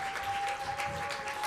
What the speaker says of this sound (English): another round of applause for this combo and all the combos tonight